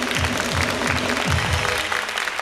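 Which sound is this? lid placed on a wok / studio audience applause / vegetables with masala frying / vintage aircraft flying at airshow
studio audience applause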